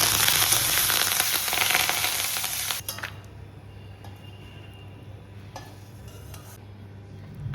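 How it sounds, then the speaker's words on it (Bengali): Raw peanuts and curry leaves fry in hot oil, giving a loud, bright sizzle for about three seconds that then drops to a softer crackle under low background hum. "গরম তেলের মধ্যে কিছুক্ষণ কাঁচা বাদামগুলো নাড়াচাড়া করে নিয়ে তার মধ্যে কারি পাতা দিয়ে দিয়েছিলাম।"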